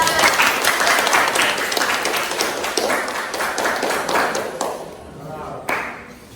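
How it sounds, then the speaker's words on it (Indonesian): Classroom audience of students and parents clapping, dense steady applause with scattered taps that thins out and fades near the end, with some voices mixed in. "Ya, tepuk tangan untuk orang tua."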